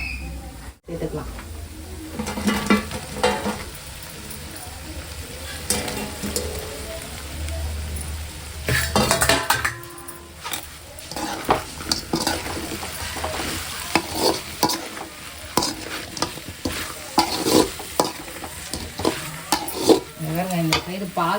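Chicken fried rice with chicken 65 pieces is stirred in a hot pan, giving a continuous close sizzle broken by repeated scraping and tossing strokes of the spatula.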